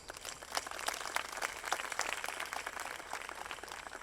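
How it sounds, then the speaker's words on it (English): A crowd applauds steadily, the dense patter of many hands clapping at a moderate distance, holding an even level throughout. "show your appreciation to them, our appreciation to them, with a loud round of applause"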